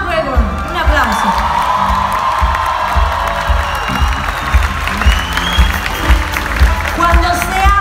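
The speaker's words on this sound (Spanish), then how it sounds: "Un aplauso" Concert audience at the Plaza Theatre in El Paso clapping, cheering and whooping loudly, with shouts and keyboard tones rising over the crowd noise.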